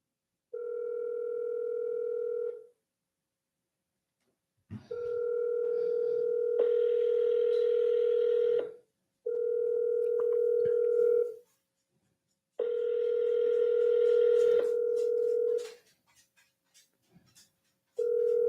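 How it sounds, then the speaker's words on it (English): Outgoing cold call placed through a CRM dialer: a steady two-tone ringback repeats in long bursts with short silent gaps, clear and close, followed by a few faint clicks at the end. "I'm not gonna let this thing dial too much, ring too much."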